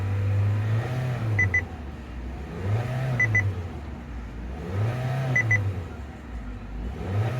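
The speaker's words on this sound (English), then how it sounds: "let it idle itself out" A 2022 Kia Seltos idling after a crank-no-start repair, with a steady low engine drone, periodic swells and faint repeating beeps over it.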